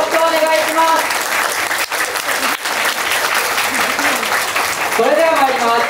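Dense, steady audience hand clapping at a yosakoi dance festival at the Marinpia Kobe venue, loud and continuous throughout, with a voice speaking briefly at the start and again near the end.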